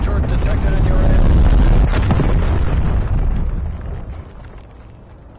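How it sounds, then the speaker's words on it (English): A cruise missile blast in the shooter game Call of Duty Black Ops Cold War, one loud, heavy, rumbling explosion that fills the first three seconds and then slowly dies away. "Enemy cruise missile launch detected."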